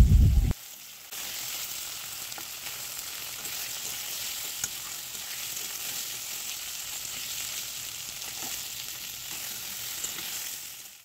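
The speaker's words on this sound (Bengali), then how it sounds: "টুকরো টুকরো করে কেটে তেলের মধ্যে দিয়ে দেওয়া হলো। এটা প্রথমে একটু ভেজে নিতে হবে" Boiled, peeled pieces of gati taro sizzle in hot oil. A steady close frying hiss follows a brief louder clatter at the start.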